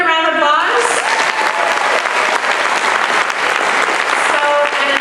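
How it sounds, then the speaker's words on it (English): An orientation audience breaks into loud, sustained applause, dense clapping filling the room steadily for about five seconds after a short bit of voice at the start. "Can we give her a round of applause?"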